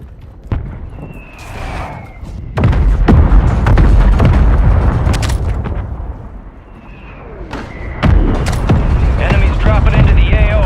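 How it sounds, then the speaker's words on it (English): Heavy booms and bursts of gunfire from a friendly mortar strike in Warzone 2 Resurgence, loud and dense, arriving in rolling waves with brief lulls between them, mixed with scattered battle noise. "Friendly mortar strike on the way."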